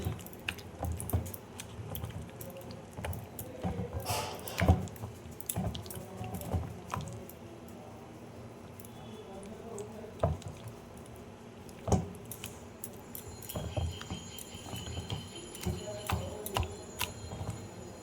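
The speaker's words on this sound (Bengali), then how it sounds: "এবার সব মিশিয়ে নেব একসাথে।" A fish-roe and lentil paste batter with turmeric, salt and sugar is mixed by hand, giving soft, wet squishing and sticky clicks in an irregular rhythm, close but quiet.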